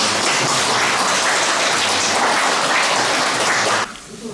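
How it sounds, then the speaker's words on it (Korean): Dense, sustained applause from a church retreat audience fills the room as a loud, steady wash of many hands, cutting off abruptly near the end and leaving quiet room tone. "좀 감사의 박수."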